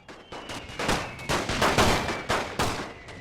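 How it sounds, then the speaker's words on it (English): Barrier troops fire rifles into the ground during a winter assault through Russia in The Great War, a WW1 mod of Total War, with about a dozen overlapping sharp cracks in a rapid, ragged volley that grows louder and sits close. "So the barrier troops are firing into the ground."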